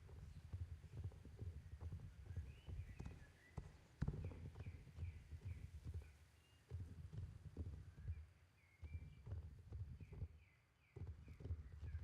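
Horse hooves clip-clopping in a steady rhythm while riding in the video game Star Stable, moderately close and fairly quiet, with soft game ambience and occasional chimes in the background.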